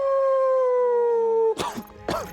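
A person imitates a wolf howling at the moon, giving one long, steady, loud howl up close. After the howl a voice speaks briefly.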